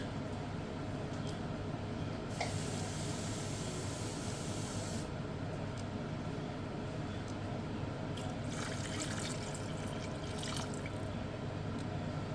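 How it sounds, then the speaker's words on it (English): About 600 ml of water is poured into a pot for carrot and sweet potato soup, a steady close liquid rush and splash that runs unbroken throughout. "I'm just going to add around 600 ml of water, give or take."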